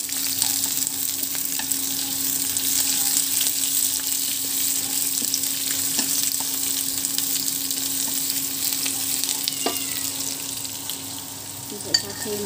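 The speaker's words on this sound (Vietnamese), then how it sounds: "Và bây giờ thì mình sẽ xào lên." Dried squid, rinsed twice, stir-frying in a pan, giving a steady, continuous sizzle with faint scraping throughout, close and fairly loud, with no talking.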